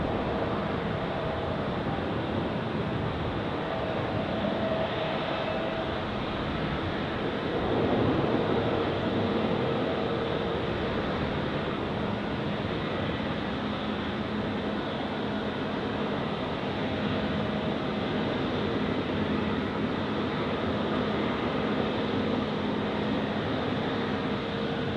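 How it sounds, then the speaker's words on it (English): A TAP Air Portugal Airbus A321 departs Zurich Airport for Lisbon, a steady broadband jet roar holding at even loudness throughout, distant and continuous with no talk. "Here we have Top Air Portugal A321 here, departing to Lisbon."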